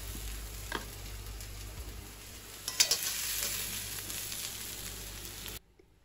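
Onion frying and being stirred in oil in a wok while making mutton kosa; a steady sizzle runs throughout, with a few louder scraping stirs near the middle before the sound cuts off abruptly.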